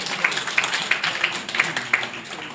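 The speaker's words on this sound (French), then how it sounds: "Applaudissez un peu pour la CEDEAO." Audience applause at a closing ceremony, a brief, moderately loud spell of steady clapping from a seated crowd, even and unbroken for a couple of seconds without speech.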